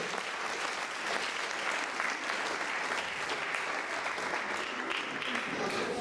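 Steady, dense applause from a church congregation fills the space, continuous and even throughout without a break.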